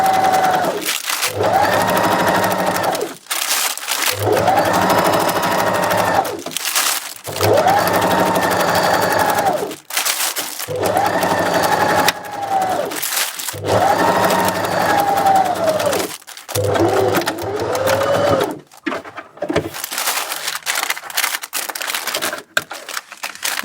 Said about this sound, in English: I'm going to sew all the way round.